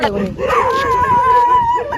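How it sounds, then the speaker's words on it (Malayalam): Many dogs bark and howl at night over loud, busy background noise, with one long sustained howl-like tone running through most of the moment. "എന്റെ ദൈവമേ നിറച്ച് പട്ടിയാണല്ലോ"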